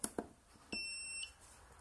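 A short, clean electronic beep tone from a FlySky TH9X radio transmitter holds for about half a second, preceded by a couple of soft clicks, in an otherwise quiet setting.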